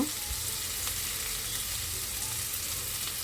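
Food frying in hot oil in a pan gives a steady soft sizzle and crackle, fairly quiet and continuous, with no voices.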